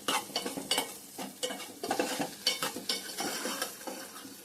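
Chilli powder frying and being stirred in a pan, a close sizzle broken by repeated scraping strokes of a spoon at an irregular rhythm.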